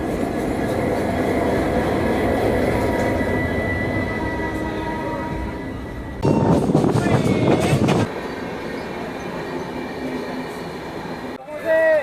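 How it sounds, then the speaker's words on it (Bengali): The ICF-coach Kanchanjungha Express hums and rumbles nearby at Pakur railway station with a steady mechanical drone, briefly swelling into a louder, rattling roar midway before settling again. "আমরা এখন আছি পাকুড় রেল স্টেশন"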